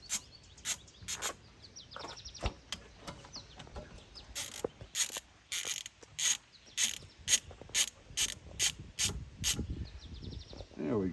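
A ratchet clicks rapidly as it loosens a bolt on the brake caliper of a 2002 Kawasaki Vulcan 1500 motorcycle, with loud, evenly spaced sharp clicks in bursts and no talking.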